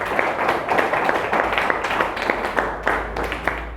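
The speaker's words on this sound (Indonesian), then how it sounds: "tepuk tangan boleh buat dua temannya" Pupils in a classroom clap for two classmates, a moderately loud patter of many small hands with irregular sharper claps, continuing throughout.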